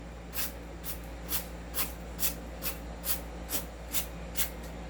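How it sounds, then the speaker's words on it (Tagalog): Cleaner sprays onto an airsoft gun during maintenance in about ten short, even hissing bursts roughly half a second apart. The bursts are close and clear over a low steady hum, with no talk. "Spray tayo. Dahan-dahan lang."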